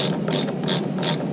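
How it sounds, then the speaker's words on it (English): A quick release ratchet tightens a brake caliper bolt on a 2009 Yamaha FZ6R motorcycle during a brake pad change: three quick, close bursts of sharp clicking, evenly spaced. "Then using your quick release ratchet."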